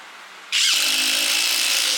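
A Tigron cordless impact driver drives into hardwood. A quiet hum jumps at once to a loud, steady high-pitched whine of driving that holds to the end.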